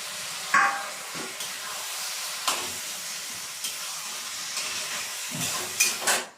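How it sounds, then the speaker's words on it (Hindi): A pan of mushroom masala sizzles and fries with a steady hiss while a spoon stirs it, giving several sharp scraping clicks at irregular intervals, no talking. "मसाला भुन गया है तो इसे मिला देते हैं।"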